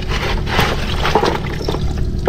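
Water is poured to wash seashells, a close, loud continuous splashing and trickling of liquid with no voices.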